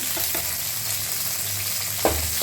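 Onion, green chillies, rice and curry leaves fry in a pan for tomato rice, making a continuous close sizzle with occasional light stirring clinks of a spoon against the pan and no talking.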